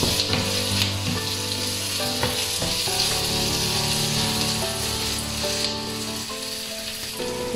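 Potatoes sautéing in a pan for Jaffna-style prawn uppuma, a steady close sizzle with scraping stirs and a few utensil knocks, no talk.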